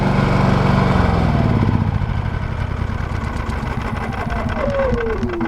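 A Harbor Freight Predator 9500 inverter generator runs steadily close by, a smooth, fairly loud engine drone that settles into a lower, quieter hum partway through.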